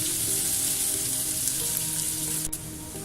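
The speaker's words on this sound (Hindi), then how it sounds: "शीर ख़ौरमा जो है वो सेवियों को भी फ्राई करना पड़ता है" Vermicelli crackles and sizzles steadily in a hot pan for sheer khurma, a dense close frying hiss with light stirring and no voices.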